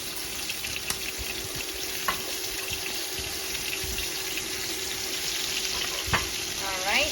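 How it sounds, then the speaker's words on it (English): Onion fries in a pan for pot roast gravy with a continuous moderate sizzle, broken by a few soft clicks and knocks. "so we are going to put our onion in there"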